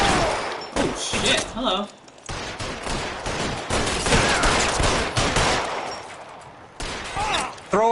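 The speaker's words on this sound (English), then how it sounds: "Oh, guess we're getting into a shootout." Repeated gunfire in a shootout from the video game L.A. Noire, bursts of shots rattling through most of the stretch with brief pauses, while a voice exclaims over the din.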